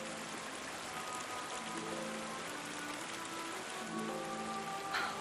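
A river flows with warm water, a continuous dense hiss of rushing, babbling water, close and even throughout, with faint tonal hints underneath and no talking.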